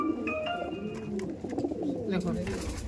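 A pair of Fulshira pigeons, one sitting on eggs, coos softly and close by under a person talking, with a brief chirping burst near the start.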